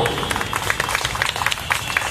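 Audience clapping at a Human Rights Day event, scattered and fairly light, with some crowd noise mixed in over about two seconds.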